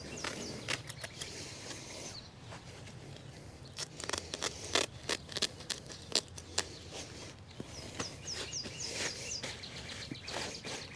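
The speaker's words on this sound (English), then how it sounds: "So all I'm going to do is just cut the corner off." Scissors snip through the corner of landscape fabric outdoors while planting a Junior Giant arborvitae hedge, a series of sharp, close cuts in an irregular rhythm over faint birdsong.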